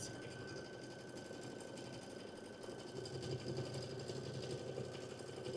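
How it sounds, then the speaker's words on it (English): An embroidery machine stitches a satin stitch on a snow globe ornament, a quiet, steady mechanical hum and rapid needle chatter that grows slightly louder and busier partway through, with no talking. "Now, okay, it's switching to the satin stitch."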